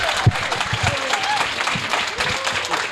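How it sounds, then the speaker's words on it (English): Applause from a convention panel audience at a sci-fi con, steady clapping and crowd noise with a host's voice rising briefly over it. "Give it a nice round of applause"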